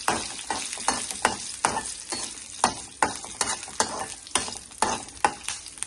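Dried and green chillies sizzle in oil in a pan while a spoon stirs them in a steady rhythm of scraping strokes, each stroke bringing a burst of frying hiss, close and fairly loud with no talking.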